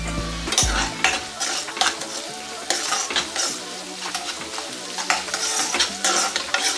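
Chopped onions sizzle in hot oil in a pan while a spoon stirs and scrapes them in quick irregular strokes, close and clear with no talking.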